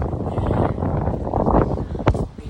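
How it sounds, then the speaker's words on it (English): Strong wind blows outdoors on a blustery day in the UK, a loud, steady broadband roar buffeting the microphone, with gusts swelling midway and a sharp bump near the end. "It is so windy outside, so enjoy your day."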